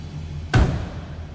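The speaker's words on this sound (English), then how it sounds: "door closes nicely." A single solid thump as the door of a 1971 Oldsmobile Cutlass Supreme convertible swings shut, close and clear against a quiet background, with a brief low resonance afterward.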